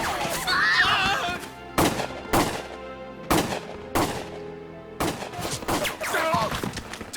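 Gunfire from the Valkyria Chronicles video game: several sharp, loud shots burst out in irregular succession, each a sudden broadband crack with a short tail, over a busy battle backdrop with some voice-like sound mixed in.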